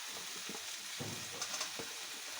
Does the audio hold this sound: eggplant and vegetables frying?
yes